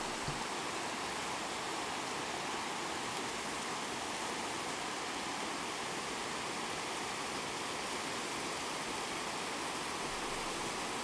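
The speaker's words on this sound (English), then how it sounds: "Thousands of gallons of water seep out of the rocks in this drainage to form a large creek, which spills into several pools before falling into the river" Creek water from Tudor Warm Springs spills steadily through a chain of pools and pours into the river, giving a dense, unbroken rush of falling water that holds close and loud with no letup and no voices.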